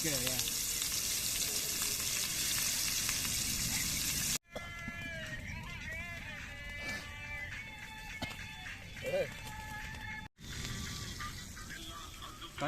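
Fish coated in masala frying in oil over a gas stove outdoors, a loud continuous sizzle that cuts out and returns, with crackling pops and faint talk in the background.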